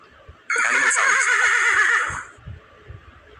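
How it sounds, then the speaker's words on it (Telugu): A horse neighs once in a long, wavering whinny lasting about a second and a half, played back from a phone's animal sounds app, followed by faint small handling noises. "హార్స్ అంటే తెలుసు మీకు, గుర్రం."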